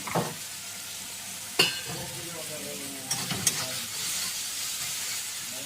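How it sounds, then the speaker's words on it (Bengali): Onion, garlic, tomato and spices being stirred in a pan, with scraping strokes and soft sizzling under a steady hiss, a few sharper utensil knocks breaking through. "নাড়াচাড়া করে এখন পেঁয়াজ, রসুন, টমেটো সব মশলা দিয়ে নাড়াচাড়া"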